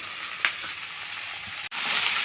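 Chopped ivy gourd fries with onions and ginger paste in a hot pan, giving a bright, even sizzle with a light tap early on and a brief drop in sound before the frying resumes.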